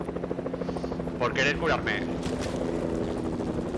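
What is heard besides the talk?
helicopter in video game Fortnite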